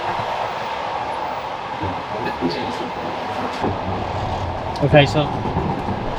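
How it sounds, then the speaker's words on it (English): Rolling rumble of a Soviet sleeper train, heard from the gap between carriages, a steady low roar with faint rattles and clanks, loudest around the middle; a person speaks briefly over it. "In between the train carriages."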